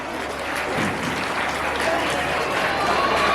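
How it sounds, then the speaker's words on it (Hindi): Audience applause at a Bhagwat Katha religious gathering in Jahangir Puri, a steady wash of crowd clapping that swells slightly and holds for a few seconds. "जोरदार तालियां"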